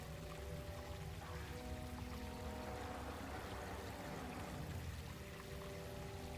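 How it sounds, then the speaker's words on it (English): A small creek flows steadily through a calm night-time area of the Black Citadel in Guild Wars 2, a soft continuous babble and trickle, fairly quiet, with no voices. "It's like a little creek, but it's beautiful at night time."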